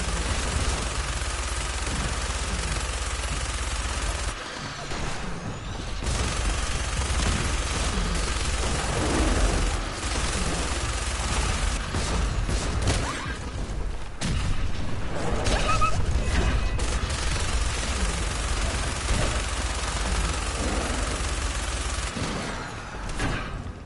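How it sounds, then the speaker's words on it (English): Gunfire in the video game Fallout 4, a dense stretch of rapid shots and bursts with booms and mechanical clanks, loud and nearly continuous, with brief pauses between volleys. "You're still shooting at me."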